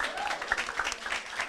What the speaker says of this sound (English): Give Mr. Vaz a round of applause